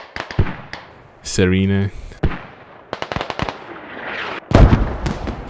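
Sharp, loud blasts and crackling bursts from mortar fire in the video game Squad, coming in clusters, with a short tonal in-game sound and a few spoken words in between.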